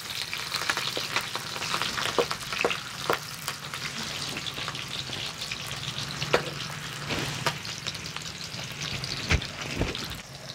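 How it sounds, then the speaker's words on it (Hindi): Steady crackling sizzle of garlic and chili frying in hot oil, with sharp pops and spatters scattered throughout, close and continuous with no talking. "इसमें डालते हैं लहसुन और मिर्चा का तड़का।"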